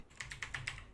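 Five quick, light keystrokes on a computer keyboard, close and faint, tapped in an even rhythm against a quiet background.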